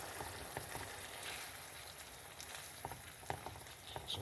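White wine cooking off in a pan of peperonata-style pasta sauce gives a steady, faint frying sizzle with soft crackles and pops throughout, no voices.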